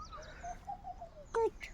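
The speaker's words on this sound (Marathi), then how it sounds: "अगं चिवचिव आहे" A small bird chirps outdoors with a short run of thin, high tweets followed by a brighter double call, faint and at moderate distance.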